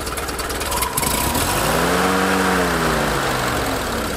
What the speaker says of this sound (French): ce moteur-là, il sonne vraiment comme un moteur de tracteur